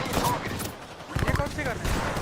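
Gunfire in the Apex Legends battle royale game, bursts of rapid shots crackling through the mix while players talk over the action.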